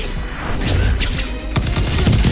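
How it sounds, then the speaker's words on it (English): Fireworks explode during combat in the video game Dragon Age: The Veilguard, with loud, booming blasts and crackling bursts filling a dense, continuous barrage. "Bam! Fireworks."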